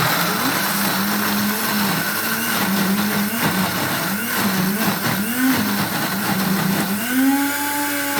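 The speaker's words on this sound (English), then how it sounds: "So we are going to blend these onions and the beans together" A kitchen blender grinds beans and onions for akara, a loud steady motor whine that dips and rises repeatedly as the load shifts, running alone without talk.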